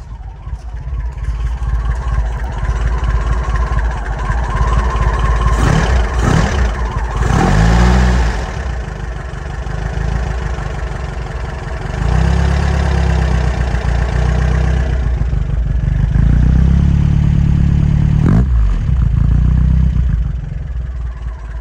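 An engine runs steadily close by after a cold start, rough and loud, with occasional revs swelling and falling back to a clattering idle.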